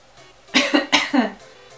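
A performed asthmatic cough, a voice imitating the sound as a sound effect: four quick raspy, wheezy hacks in a row, close and fairly loud, with the last one dragging out longer.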